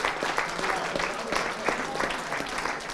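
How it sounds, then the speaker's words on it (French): Audience applause at a French talk on persuasion, a steady wash of clapping from a room of listeners that holds an even level for the full three seconds, with a voice faintly audible underneath. "On peut les applaudir."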